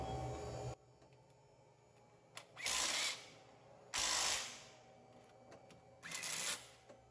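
A ratchet snugging alternator bolts on a 2007 Buick Lucerne 3.8L, three bursts of rapid clicking, each lasting about a second, separated by quiet pauses, close and clear with no talk.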